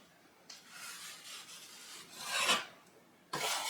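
A drywall knife scrapes joint compound across a wall patch in rasping strokes, a long smooth pass swelling then fading, followed by a sharper fresh stroke at the end.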